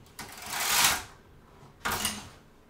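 Knitting machine carriage sliding across the needle bed in two broad, whooshing passes, the first longer and louder, the second shorter after a brief pause, with no voices.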